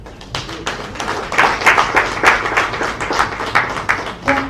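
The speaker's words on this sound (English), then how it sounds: "But you are clapping for yourself." Audience at a labour congress meeting with the president clapping in uneven bursts of hand claps, loud and close, rising and falling over a few seconds with murmured voices underneath.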